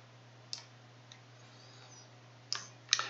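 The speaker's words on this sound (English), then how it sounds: "Simply click on the gravity dam button." Computer mouse clicks on a software button in dam design software. A few sharp, faint, isolated clicks sit over a steady low hum in a quiet room.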